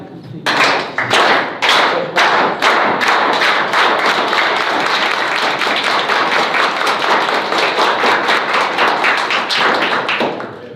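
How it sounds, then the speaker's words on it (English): A group does the United Farm Workers farm worker hand clap, starting with slow, spaced claps that quicken into a rapid, steady rhythm, loud and close. "A farm worker hand clap."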